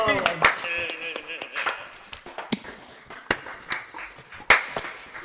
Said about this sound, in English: give a big round of applause to our